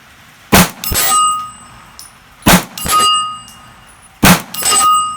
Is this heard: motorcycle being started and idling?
no